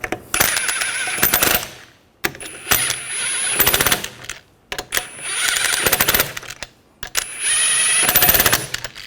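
An impact wrench snugs down lug nuts on a 2013-2019 Ford Escape wheel, four loud rattling bursts of a couple of seconds each with short silent gaps between them, close up and with no talk.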